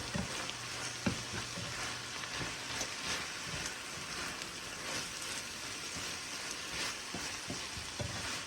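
Salmon fries in a hot pan for a sesame ginger dish, producing a steady, soft crackling sizzle throughout with faint occasional pops and no voices.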